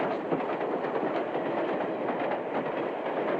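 A Civil War era steam locomotive races down the track, its wheels clattering in a steady rhythm over a continuous heavy roar, close and loud throughout.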